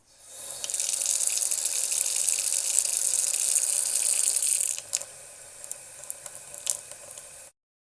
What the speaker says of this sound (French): je me lave toujours les mains